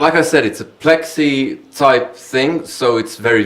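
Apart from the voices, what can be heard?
No everyday noises stand out.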